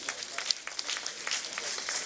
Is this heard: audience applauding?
yes